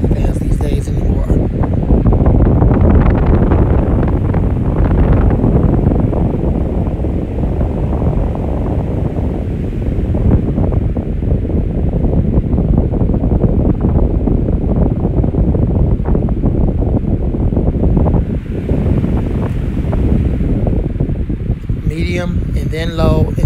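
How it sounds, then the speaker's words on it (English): A 16-inch high-velocity home fan running, a loud, steady broadband whoosh of moving air that holds level for over twenty seconds, heard close up with someone talking over it. "It's a 16-inch fan, and that's a very odd size. You don't find too many 16-inch high-velocity fans these days anymore."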